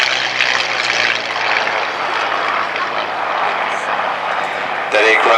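A Curtiss P-40C propeller fighter in 10th Air Base markings drones steadily at an airshow, its engine a broad continuous roar at fairly close range, with a commentator talking over it throughout and a brief louder burst near the end.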